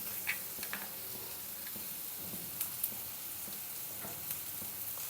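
Salted brinjals fry in oil, giving a soft, steady sizzle with occasional light ticks and pops, heard alone without speech.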